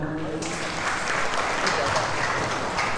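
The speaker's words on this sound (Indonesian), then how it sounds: "Tepuk tangan." Applause from an audience at a Maulid Nabi religious lecture in a mosque, a steady dense clapping that fills the whole clip at moderate level, with some voices mixed in.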